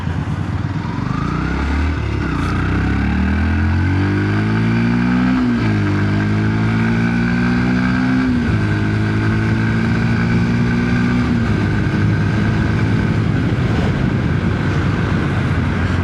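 A Yamaha FZS motorcycle engine hums steadily at close range, revving up and shifting through gears as it rides along, with continuous road and wind noise.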